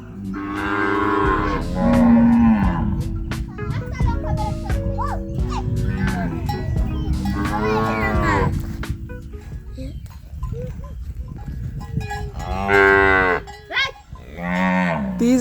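Cattle and calves moo repeatedly on a farm during a windy morning rain, loud drawn-out calls rising and falling close by, with a person talking between them.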